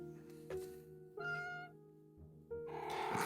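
A cat meows in several short, clear calls, each rising then falling, spaced apart with quiet gaps between them, close and moderately loud over a faint steady background hum.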